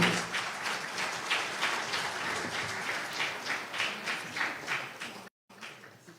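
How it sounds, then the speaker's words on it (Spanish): Strong applause from an audience at a panel session on electoral justice law, a sustained wash of many hands that pulses slightly and holds steady before a brief cut near the end. "despedimos con un fuerte aplauso"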